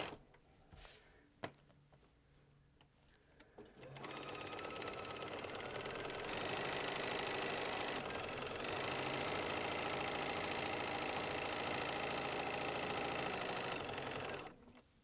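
A sewing machine stitches the final straight seam of a simple crazy quilt after a few quiet handling clicks, running in a steady fast whir for about ten seconds before stopping.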